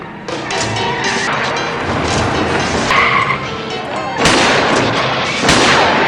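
Loud, sustained gunfire crackles continuously with booming blasts and screeching tires, a dense, chaotic action-scene mix from a film scene in Chinatown (1974).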